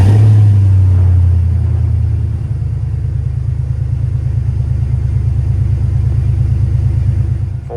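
An idling NV3500-equipped truck engine after a cold start following two months of sitting, with a loud low rumble that steps down from a higher first idle into a steady, even throb close by, and no talking.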